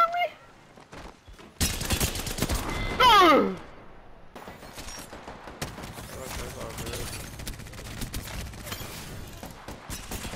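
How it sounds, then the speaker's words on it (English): Gunfire in the Apex Legends video game: a dense burst of rapid shots lasting about two seconds, followed by quieter in-game ambience and some voice activity. "Shot him right in the head."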